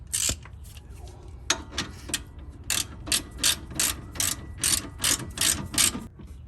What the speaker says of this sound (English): just go ahead and put your bolt right through and start screwing it in